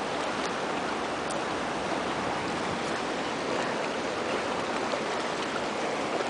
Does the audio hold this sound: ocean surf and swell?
yes